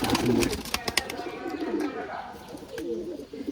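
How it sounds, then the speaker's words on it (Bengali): Soft, repeated burbling coos come from a young tula pigeon held close, in a few rounded pulses with brief pauses between them. "এই কবুতারটা যে তুলো কবুতারের বাচ্চা"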